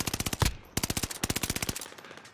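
Bren light machine gun firing in a video game, with loud rapid bursts of evenly spaced shots, a short pause, then another long burst that trails off.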